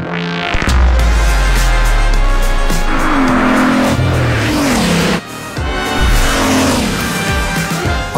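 A Bugatti race car tears around Le Mans in Gran Turismo, its loud engine climbing and dropping through gear changes with tire squeal, close and intense, briefly cutting out midway before roaring back.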